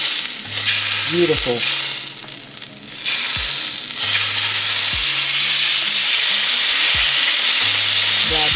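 A steak sears over high heat in a stainless steel pan with a loud, dense, continuous sizzle close by; a voice says a single brief word partway through.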